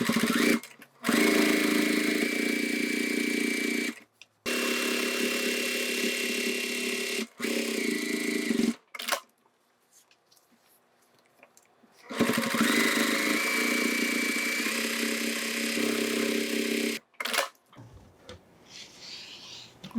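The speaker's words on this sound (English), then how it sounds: "And then we sew the shoulder strap or the crossbody strap." A sewing machine stitching a crossbody bag shoulder strap runs in long steady whirring bursts, stopping briefly between runs, with a longer quiet gap in the middle before sewing resumes, close and fairly loud.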